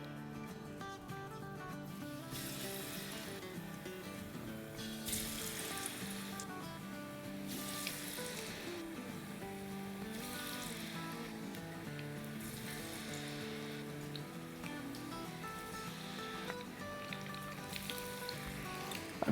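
Potato pieces dropped into moderately hot oil to fry for kurkuri chaat, a steady close-up sizzle and crackle running throughout with periodic louder surges.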